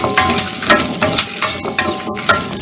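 Onions and garlic sautéing in a pan for chutney, a loud continuous sizzle with repeated scraping stirs at a close, steady pace.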